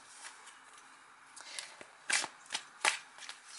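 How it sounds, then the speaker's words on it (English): Tarot cards being shuffled in a series of crisp riffling bursts, growing louder and more rapid toward the end, close by with no talking. "Let's shuffle the cards and see what they have to say for you, Bobby."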